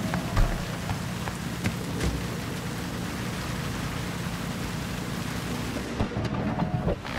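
Steady, loud rain pours down on a surface in Cyberpunk 2077, with low rolling thunder rumbling beneath the constant hiss throughout, no voices.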